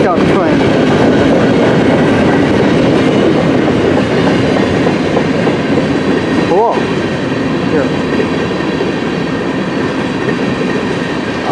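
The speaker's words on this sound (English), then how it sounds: "CN M399 westbound train." A CN M399 westbound mixed freight train rolls past close by, a loud, continuous rumble with clattering wheels and a brief squeal. Two short spoken remarks are buried under the noise.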